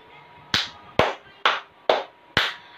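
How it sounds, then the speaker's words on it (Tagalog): Five sharp, evenly spaced claps from a class audience during a demo teaching lesson. The claps fall in unison about half a second apart, each one crisp and loud, with near silence between them. "Ngayon ay nais kong bigyan ninyo ng 5 palakpak ang inyong mga sarili at sumigaw na mahusay!"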